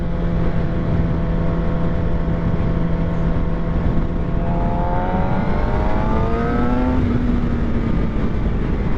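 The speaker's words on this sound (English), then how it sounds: "This is probably one of the best sounding motorcycles out there stock" A 2023 Suzuki GSX-R750 sport motorcycle engine screams steadily at high revs, then drops pitch in quick stepped downshifts as it slows, loud and continuous.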